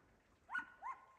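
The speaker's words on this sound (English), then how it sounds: "He's barking like our little dog." A dog barks far off in trees, two faint, short, yelping barks in quick succession over quiet background.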